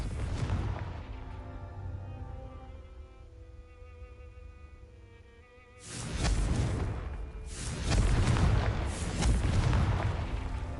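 Confringo fire-blast spell explosions in Hogwarts Legacy, a quieter rumbling stretch and then a run of loud whooshing booms in quick succession.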